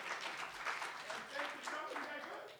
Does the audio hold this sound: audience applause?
yes